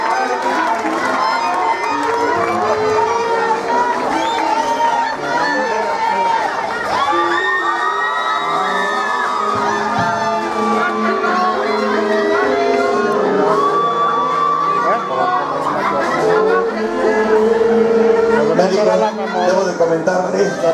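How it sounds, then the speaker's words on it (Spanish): A large crowd at a symphonic band concert cheers and shouts continuously, with children's voices whooping loudly throughout and a steady wash of noise. "¡Ese bonito y caluroso aplauso!"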